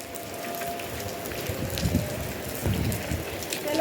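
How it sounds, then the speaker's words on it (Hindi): Steady, dense rain hisses throughout, with brief louder surges of patter; no voices are heard. "काफ़ी तेज़ बारिश है।"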